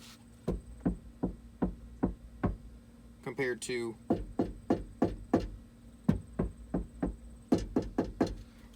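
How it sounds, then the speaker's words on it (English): Knuckles rap on the outside of a Ford Super Duty truck door fitted with sound-deadening material inside, producing a long, steady series of close, dull, damped knocks, with a brief stretch of speech in the middle. "if you knock from the outside"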